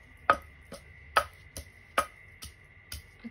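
Garlic pounded in a mortar for papaya salad: a steady series of about eight close, dull thuds at an even rhythm, without talk.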